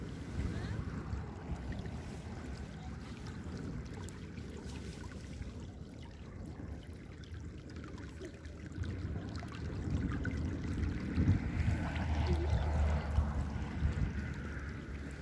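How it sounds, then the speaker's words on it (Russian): A small river in a rural Uzbek village flows and babbles steadily, a broad watery rush that swells slightly louder toward the end, with faint background activity. "Речка."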